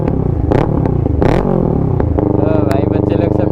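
Kawasaki Ninja 650 fitted with a full-system Mivv exhaust starts up loud and close, with sharp throttle blips and crackles settling into a throbbing idle, voices audible around it.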